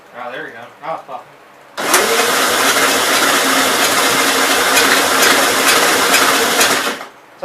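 A 1957 Gravely SR walk-behind tractor engine, freshly given a top-end rebuild, cranks and catches after brief talk, then runs loud and rough with a steady rapid chugging for about five seconds before cutting off.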